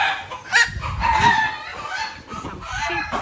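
Chickens at a South African farm tour, with clucks and a rooster's crow heard close and clear in short bursts among other fowl.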